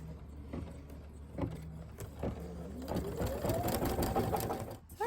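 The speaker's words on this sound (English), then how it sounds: "we're going to stitch our foam placement line" A sewing machine runs in short starts and then a longer steady stretch, stitching a foam placement line for a Halloween bat jar topper, with a faint rising whine near the end.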